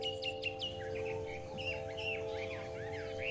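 A songbird at a bird singing club in Singapore sings a string of quick, high chirps and whistled phrases, clear but fairly faint over a steady low hum.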